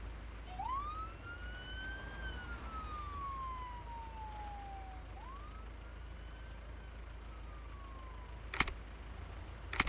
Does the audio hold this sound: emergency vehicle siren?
yes